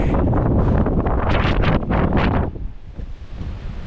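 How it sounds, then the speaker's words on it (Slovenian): Strong wind gusting on the Albanian coast, a loud rushing roar buffeting the microphone for the first two and a half seconds before easing to a lower steady blow. "Piha ka pri norcih."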